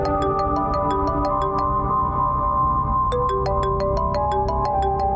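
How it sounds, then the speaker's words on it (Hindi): A phone ringtone plays a repeating melodic chime pattern, a short run of tones, a pause, then the ringing starts again, clear and close. "शकीला बीबी फोन कर रही है मुझे।"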